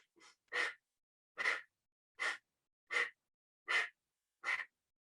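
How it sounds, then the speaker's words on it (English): Wim Hof-style breathing exercise: six forceful breaths, each a sharp rushing inhale or exhale, evenly spaced about a second apart, close and clear against silence. "it's a Wim Hof breathing"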